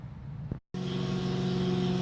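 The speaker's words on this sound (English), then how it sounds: "we got our truck fired up. It's getting up to temperature." A truck engine powering carpet cleaning equipment runs close and steady, cutting out briefly to silence before resuming as a constant loud drone with a low hum, no voices.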